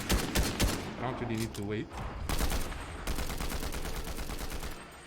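Rapid bursts of gunfire from Fortnite ring out close and loud in a steady fusillade, with a player talking over the shots.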